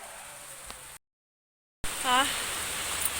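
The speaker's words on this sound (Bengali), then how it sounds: "নেমেছে বৃষ্টিটা, এখন যদি একটু আরাম হয়" Steady hiss of rain falling, broken by a short silent gap, with a voice speaking over the downpour afterward.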